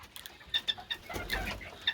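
Serama bantam chicks give a few high, thin peeps in quick succession, fairly faint and close, with a soft low rustle partway through.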